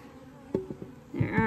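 Bees around a 24-frame Layens horizontal hive give faint, brief buzzing near the end, preceded by a few soft knocks, all fairly quiet with no speech.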